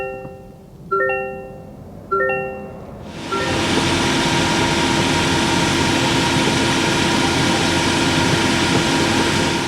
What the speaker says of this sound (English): move it around so you can hear that exhaust note